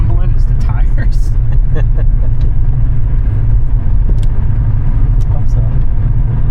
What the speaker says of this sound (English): I'm gonna say the grumbling is the tires.